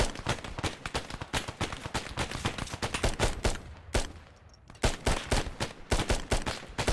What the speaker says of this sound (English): There's shots flying all around me.